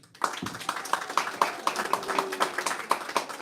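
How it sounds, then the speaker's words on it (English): Audience applause for children after their performance: a steady run of hand claps, moderately close, clapping at a fairly even rhythm for a few seconds, with no talk over it. "A big round of applause for the kids."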